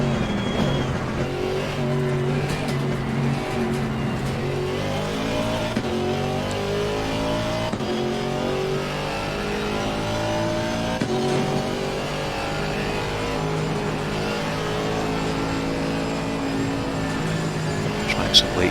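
A race car at Zandvoort in the Assetto Corsa Competizione video game, its engine revving up and down through gear changes and a long sweeping corner, loud and continuous with faint tire noise.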